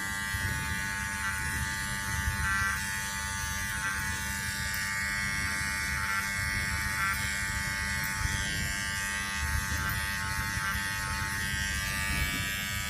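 Electric hair clippers buzz steadily and close up, cutting a fade in a razor-cut haircut, with a continuous even drone and slight shifts in pitch as the blades move through the hair.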